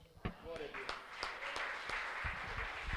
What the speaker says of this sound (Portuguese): Mais palmas ao nosso Rei Jesus